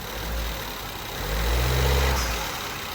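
A 2014 Ford Escape EcoBoost engine with a worn motor mount, revved lightly while shifted into gear, a low steady rumble swelling briefly in the middle then settling, heard alone.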